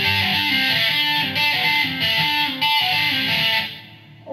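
Distorted electric guitar plays the second riff of a song, a driving repeated figure heard loud and close, through an effects unit with heavy distortion, ending in a short decay.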